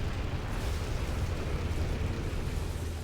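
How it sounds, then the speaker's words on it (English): Napalm bombs exploding in the real-time strategy game Rise of the Reds, a dense, continuous rumbling roar of fiery blasts with heavy low end, steady and loud throughout without pauses. "Napalm bombing incoming."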